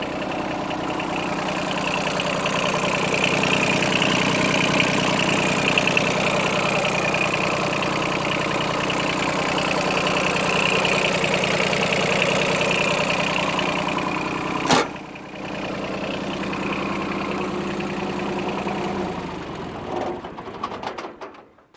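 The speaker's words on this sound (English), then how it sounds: "This is a Yanmar F6D 4-wheel drive diesel tractor." A Yanmar F6D four-wheel-drive diesel compact tractor engine idles steadily and close by with a constant chugging rumble, a sharp click partway through, then the running sound fades out.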